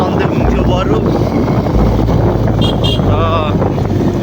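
Cold wind gusting across a Himalayan mountain viewpoint, roaring and buffeting the microphone in strong, continuous rumbling blasts, loud and close throughout.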